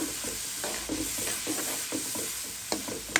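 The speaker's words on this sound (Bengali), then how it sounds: "মশলাটা কষতে থাক" Spice paste being stir-fried in a pan for a Bengali tilapia, bean and potato curry: a steady soft sizzle with repeated scraping strokes of a spoon at an uneven rhythm, close and fairly quiet.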